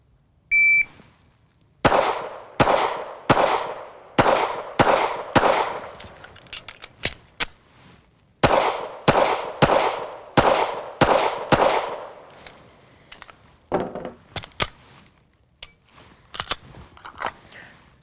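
A shot timer gives a short electronic beep, then a pistol fires a long string of loud, sharp gunshots in a shooting-drill setting. The shots come in quick rhythmic bursts with a brief pause between strings and a few scattered shots at the end.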